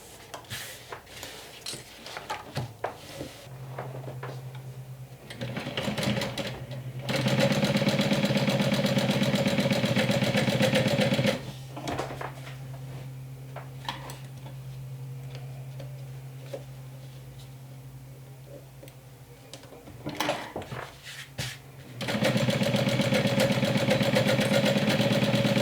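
A sewing machine stitches down the pocket of a bag in bursts, its close mechanical whir starting and stopping several times with quiet pauses between runs.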